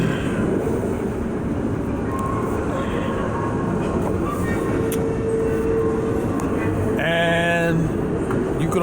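An HO scale model train rumbles continuously nearby with a steady rolling hum, and a brief squealing whine rises near the end.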